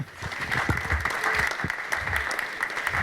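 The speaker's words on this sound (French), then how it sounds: "Que vous pouvez applaudir" Audience at an engineering awards ceremony clapping for a prize winner, a sustained burst of applause from a moderate crowd, steady and fairly even.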